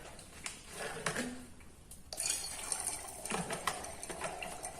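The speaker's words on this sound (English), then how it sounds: "We'll put some dry ice into a beaker. We will add in some water." Dry ice dropped into water in a beaker, giving a bubbling, gurgling fizz with sharp clinks and splashes, building to a steady churn of bubbles in the second half.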